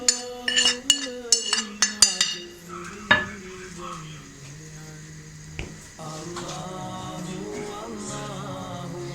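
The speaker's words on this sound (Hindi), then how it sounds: "ये मसाले डालने के बाद हम इसको अच्छे तरीके से मिक्स करेंगे।" A utensil clinks sharply against a bowl several times, then stirs steadily as spices are mixed into beaten eggs for an omelette, with soft scraping and clatter close by.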